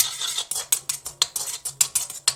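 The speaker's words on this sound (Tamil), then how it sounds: "கொஞ்சம் நெய் விட்டு முந்திரியும் வாட்டர்மெலன் சீட்ஸும் வறுத்துக்கலாம்" Cashews roast in ghee in a metal pan while a spatula or spoon scrapes and clinks against it, giving about a dozen sharp, close strokes in a quick, uneven rhythm over a faint sizzle.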